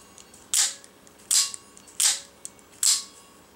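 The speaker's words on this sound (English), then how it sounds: "you should be able to open and close your knife now" A Microtech Combat Troodon out-the-front knife fires its blade open and snaps it closed, four sharp, crisp clicks at roughly even intervals, close and loud, with quiet in between.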